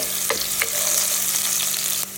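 Chopped garlic frying in hot cooking oil for a sauté, a loud steady crackling sizzle close up with a few brief sharper pops and no talking.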